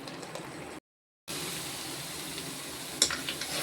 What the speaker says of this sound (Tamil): இப்படி நல்லா கொதிச்சுக்கிட்டு இருக்கு